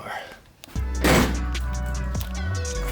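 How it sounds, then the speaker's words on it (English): A 1965 Mustang car door swings shut with a solid, heavy thunk at close range, followed by a lower resonant settling thud amid faint background noise. "I like the sound of that door."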